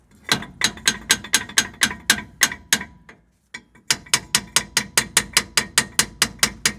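A ratchet wrench clicks rapidly in even bursts while loosening brake caliper bolts on a 1999-2005 Chevrolet Silverado, a close, crisp run of metallic ticks, a brief pause, then another steady run.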